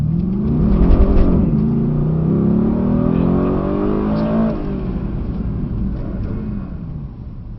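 A Mercedes-AMG GT engine pulls hard from inside the car, its loud, rising roar broken by brief dips as it shifts up through the gears, then easing off toward the end.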